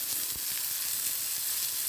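Steady, close sizzling of homemade burgers frying on very low heat in a pan lightly brushed with a small amount of oil, a bright hiss with a few soft bumps underneath.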